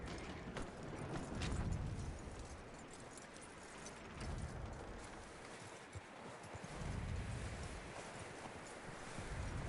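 Horse hooves clip-clop steadily across the ground in the Red Dead Redemption western video game, a rhythmic walking gait heard alone over a low rumbling ambient background, moderately loud throughout.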